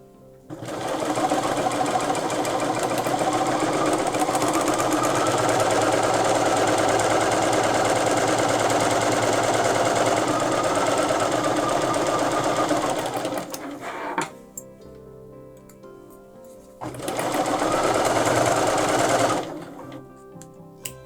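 A sewing machine stitches quilt table runner pieces in a loud, fast, steady whir for about twelve seconds, pauses briefly, then runs again in a shorter burst before stopping.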